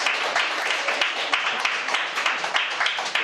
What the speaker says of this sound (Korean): 우리 가정을 축복하는 마음으로 박수로 축복합니다.